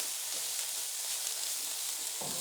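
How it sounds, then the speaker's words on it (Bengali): A shrimp mixture for chingri bhorta fries in a little oil with a soft, steady sizzle, and a stirring scrape comes near the end. "এখন এটা একটু নেড়ে ছেড়ে ভালো করে একটু ভেজে নিই।"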